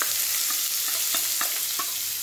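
Chopped onions and cumin seeds crackle and sizzle in hot oil in a pan, with a constant hiss and a few soft stirring scrapes close by.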